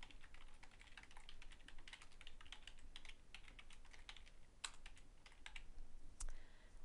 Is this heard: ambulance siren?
no